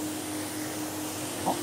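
A vacuum cleaner fitted with an Ashbys Teflon wand glide runs steadily and close, a constant broadband whoosh with a steady hum, picking up from a carpet tile, with a brief bump near the end.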